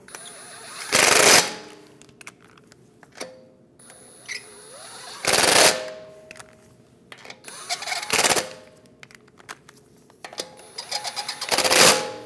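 An impact wrench runs wheel bolts onto a BMW X1 in a garage, with four loud buzzing bursts of a second or so each, separated by quieter clicks and handling noise.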